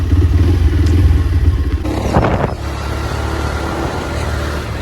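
A motorcycle engine runs loud and close with a chugging throb. A brief clattering rev bursts out midway before the engine settles to a lower, steadier idle.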